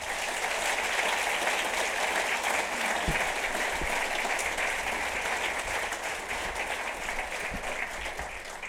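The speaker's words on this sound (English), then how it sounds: "Let's give them, all of our first responders, a great round of applause." An audience at a Torrance, California mayor's State of the City address applauds first responders: steady, dense clapping from a large indoor crowd, fairly loud and sustained throughout with a slight fade near the end.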